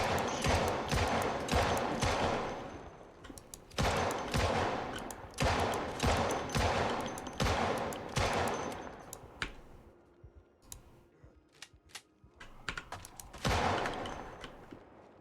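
Rapid gunfire bursts from a mall survival shooter game, automatic volleys in repeated clusters separated by brief pauses, loud and close, with a few scattered single shots near the end.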